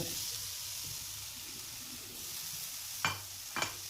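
Fried small potatoes go into a softened, sizzling tomato masala in a pan: a continuous hiss and crackle with soft stirring, then two sharp spatula clatters near the end.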